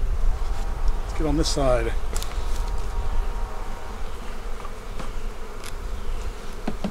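A swarm of honey bees hums steadily and close while a hive is being moved into a bee barn, the dense buzz running throughout; someone speaks briefly over it near the start.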